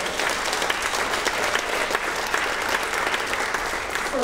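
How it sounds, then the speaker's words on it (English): Audience at a community meeting for seniors breaks into steady, dense applause, many hands clapping together at an even level for several seconds with no voices over it. "let's give a round of applause for all the hard work of everybody"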